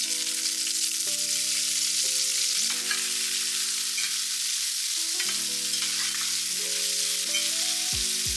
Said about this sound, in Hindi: पहले राई और थोड़ा जीरा डाल रही हूँ